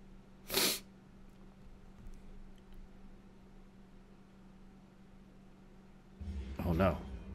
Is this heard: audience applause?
no